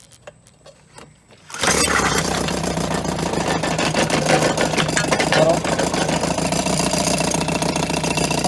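A 1990 Evinrude 3.5hp air-cooled outboard motor catches after a few quiet clicks and settles into a steady, loud, buzzing idle that continues close by.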